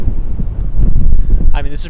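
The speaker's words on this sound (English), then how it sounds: "I think we're only going to be on for a little bit tonight because the wind is crazy" Gusty wind of about 40 mph buffets the microphone in low, rough bursts throughout, at night in downtown Miami, with a brief voice near the end.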